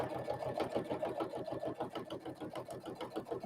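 A sewing machine stitches a seam on an upcycled sewing project, running close by in a fast, even mechanical chatter of rapid needle strokes for several seconds.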